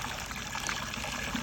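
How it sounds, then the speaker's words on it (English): Cold spring water trickles from a pipe set in rock, a steady close-up splashing and gurgling that runs unbroken throughout. "This is the water coming from the rock."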